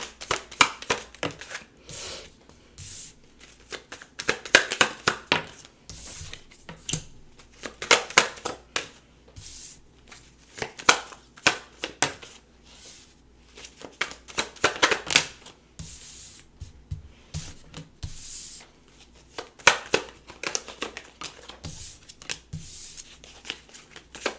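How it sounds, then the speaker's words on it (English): Tarot cards being shuffled and drawn by hand, giving repeated close riffling and flicking bursts with soft slaps and pauses between them, steady and near, without speech. "Just give me a few moments to pull some cards here."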